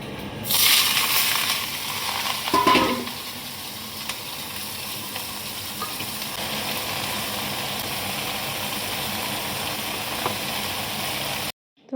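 Vegetables and chickpeas sizzle in a hot kadhai, a steady broadband hiss that holds evenly throughout, with a louder burst of spatter and clatter near the start as they go into the pan.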